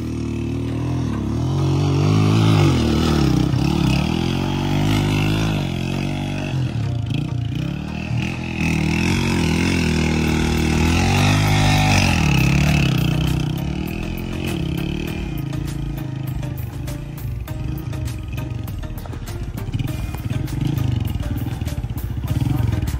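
A motorcycle engine revving and labouring on a rough, dangerous village road, loud and close throughout with rising and falling pitch and clattering bursts, voices occasionally audible beneath it.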